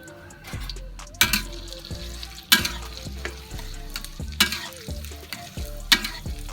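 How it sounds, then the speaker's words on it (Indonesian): Oil sizzles steadily in a pan while a spoon repeatedly stirs and scrapes through thinly sliced shallots and turmeric frying until browned, with clanking strokes every second or so. "menggoreng bawang merah dan kunyit yang telah diiris tipis tadi"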